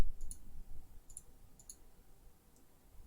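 Computer mouse clicks while wiring up a circuit in KiCad, a few sharp, light clicks spaced irregularly over quiet room tone.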